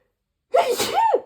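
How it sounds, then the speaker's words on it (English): A single close, loud sneeze bursts out after a moment of silence, with a sharp intake and a forceful, breathy release. "I'm going to sneeze."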